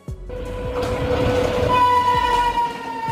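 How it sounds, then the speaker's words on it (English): Container freight train passing with its horn blowing, a loud sustained horn tone over rumbling wheels and rhythmic clicking of railcars close by. "Freight trains designed to transport standard shipping containers between major freight hubs such as seaports and warehouses."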